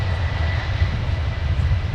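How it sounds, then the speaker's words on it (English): An Air France airliner departing MSP airport, its engines a steady, heavy low rumble with a broad roar above, distant and continuous with no voices. "So that Air France departure is certainly worth sticking around for."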